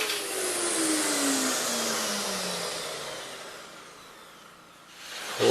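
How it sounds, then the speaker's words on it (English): A workshop vacuum table runs loud and close with a steady rushing whir, then winds down as it is shut off, its pitch gliding slowly lower before a brief noise at the end. "I'll go ahead and shut off my vacuum table."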